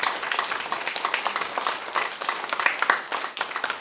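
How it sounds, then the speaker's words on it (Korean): A church congregation clapping during a Sunday worship service, brisk continuous applause of moderate loudness lasting a few seconds, with no speech over it. "한번 박수로 한번 축복합시다."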